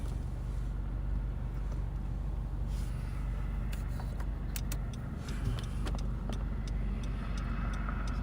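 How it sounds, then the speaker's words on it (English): A car passes at night on a rural Nebraska road, a steady close engine and tyre roar holding loud for several seconds with no voices. "Car coming."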